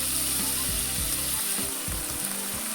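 Chopped onion and tomato with salt frying in oil in a pan give a steady, close hiss of sizzling throughout, broken by several low knocking and scraping stirs of the utensil; no voices.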